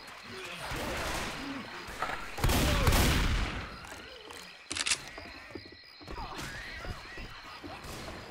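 Rapid gunfire bursts and blasts in the Left 4 Dead 2 video game, with shotguns among the weapons, come in loud clusters over game noise while players talk.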